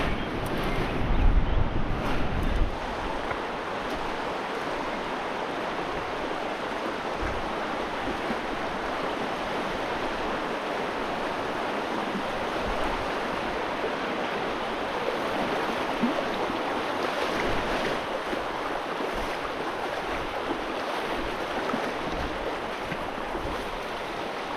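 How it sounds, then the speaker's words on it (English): River water rushes at a wide crossing during a solo backcountry hunt, a dense, steady broadband wash close to the microphone, with a brief louder surge near the start and no one talking. "got a big river crossing just up here"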